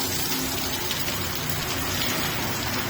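Rain falling in Riyadh, a steady, close wash of patter and splashing drops that holds an even level throughout, with no voices.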